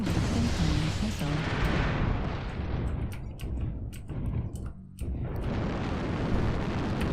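Missile explosions in the mech combat game MechWarrior Online, a dense, loud rumbling barrage of booms and blasts rolling on continuously, with a brief dip near the five-second mark before the heavy roar resumes.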